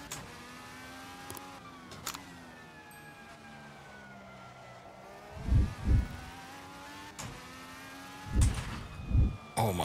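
Race car lapping in a racing simulator game on a motion rig: a continuous engine drone rises and falls with gear changes. Louder low thumps near the end suggest rig motion or impacts.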